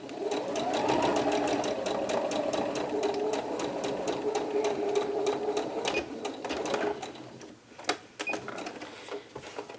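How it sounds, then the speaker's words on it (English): Blouse sleeves are sewn on a sewing machine that runs continuously for about seven seconds with a steady rapid needle clatter, close up, then slows to a few separate stitches and clicks near the end. "sew down the line that you have marked"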